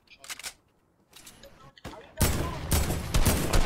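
Fortnite gunfire crackles in short bursts, first a few sparse shots with gaps between them, then a loud, sustained rapid volley near the end.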